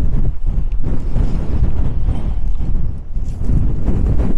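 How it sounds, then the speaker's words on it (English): Strong gusts buffet the microphone at Burgh Sands on the Hadrian's Wall Path, producing loud, low rumbling thumps that surge and dip without pause. "Oh, windy, right, switch off."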